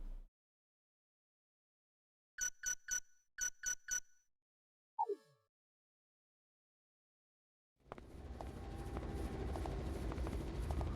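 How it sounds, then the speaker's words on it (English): A helicopter in the disaster video game Raw Danger: several chiming tones and a falling swoosh give way to a loud, steady, broadband rotor drone that fills the last three seconds. No one speaks. "Helicopter."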